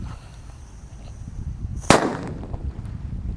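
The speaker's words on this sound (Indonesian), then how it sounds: "untuk pemanasannya kita nyalakan mercon Gledek terlebih dahulu, guys. Ini yang belum dibuntel dengan kertas" An unwrapped Gledek firecracker bursts once with a single sharp, loud bang over a low outdoor rumble, followed by a brief fading tail.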